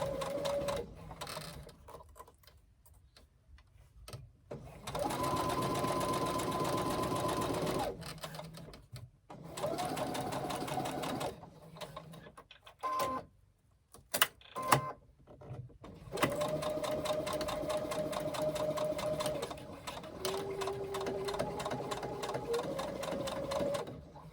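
A sewing machine edge stitches a zipper onto a fabric pouch in several close bursts of fast stitching, separated by quiet pauses and brief handling of the fabric.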